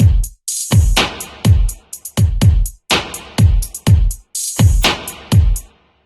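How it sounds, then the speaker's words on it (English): A programmed drum beat of punchy kicks, sharp snares, ticking closed hi-hats and hissing open hats loops in a steady groove, loud and alone, ending with a short tail. "So we go from a kick and a snap to now a kick and a snare"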